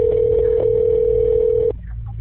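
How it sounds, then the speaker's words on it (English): Steady telephone tone on an unanswered 911 emergency call, a single sustained pitch holding unbroken for nearly two seconds before cutting off abruptly, with low background rumble continuing underneath. "911, just ringing."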